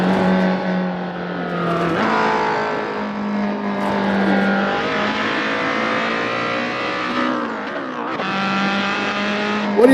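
A small race car's engine revs hard and continuously at high speed, loud and close, its pitch climbing through gear changes with brief dips near two and eight seconds, no talk over it.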